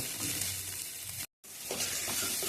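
Chopped onion, green chili, turmeric and salt sizzling in hot oil for a poha tempering, with steady frying crackle and stirring scrapes, broken by a brief silent gap midway.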